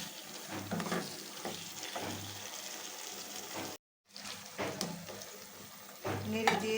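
Fried potatoes and bean seeds being stirred into a chicken curry in a pan, a steady scraping sizzle with repeated stirring strokes and a brief silent break midway.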